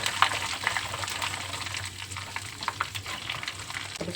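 Ginger-garlic paste fries in hot oil for a prawn pickle, making a moderate, steady sizzle with light crackles and occasional stirring, no voices.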